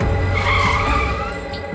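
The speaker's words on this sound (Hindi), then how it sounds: "गाड़ी रोक।" A car brakes hard to a stop with loud squealing, skidding tyres, a sustained screech close by for under two seconds, no voices over it.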